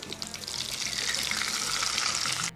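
Potato relleno, a vegan stuffed potato ball, sizzling steadily in hot oil in a pan as it is flipped, a loud, continuous bright crackle and hiss running without a break.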